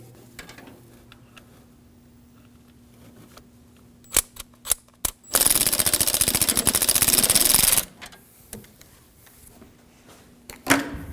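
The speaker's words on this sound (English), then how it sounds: "To remove the coil pack, we'll take out this 10mm bolt." A 10mm bolt comes out of an ignition coil pack on a 2013-2015 Subaru XV Crosstrek: a few sharp metallic clicks, then a loud, dense burst of rapid ratcheting lasting a couple of seconds, followed by more scattered clicks.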